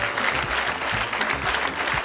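Studio audience on a comedy show applauding a jury member as they are introduced, a dense, even wash of clapping throughout, close and steady.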